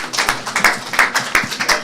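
Audience applause for student teams at a YULA Girls High School presentation event: a short burst of near, rhythmic clapping, fairly loud and alone.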